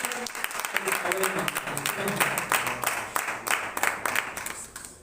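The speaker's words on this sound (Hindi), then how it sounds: "एंड पिता पुत्र पवित्र आत्मा के लिए जोरदार तालियां" Loud, dense applause from a church congregation, rapid overlapping claps filling the space, with voices and some background sound mixed underneath.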